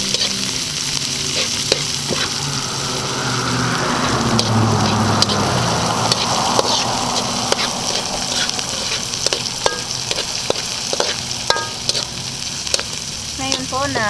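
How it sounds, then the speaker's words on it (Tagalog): Onions frying in a pan with golden-brown garlic for a spicy baby octopus dish, giving a steady close sizzle with occasional stirring clicks and scrapes throughout. "Ayan, nag-golden brown na po yung bawang. Ngayon ay pwede na po natin isunod yung ating"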